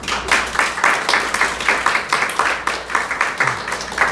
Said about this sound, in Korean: 우리 어머니들 우리 박수로 한번 격려하도록